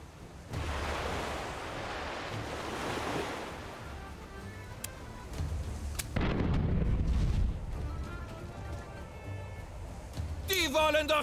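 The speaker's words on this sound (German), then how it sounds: "Deine Kanonen sind auch vollgeladen." Ship cannons firing in the pirate game Tortuga: A Pirate's Tale, heavy booming blasts with rumbling tails over a wash of sea and surf, a sharp crack midway and another burst at the end.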